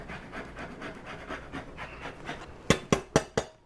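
An orange being zested with a handheld zester: steady soft rasping strokes, then four sharp, louder scrapes close by, alone with no talking.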